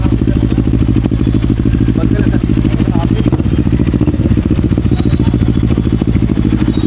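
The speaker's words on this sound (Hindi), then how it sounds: "सो गैस अभी बाइक यहाँ पे खड़ी भी है तो इसका साउंड ये है" A parked Moto Morini or Honda Africa Twin motorcycle engine runs steadily with a loud, throbbing low rumble and fast even pulsing, with a brief revving change midway.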